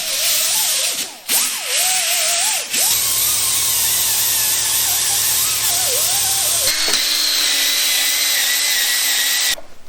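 Power tool whirring steadily as it cleans the deck and gasket surfaces of a Nova engine block, loud and continuous with a shift in pitch partway through, no talking.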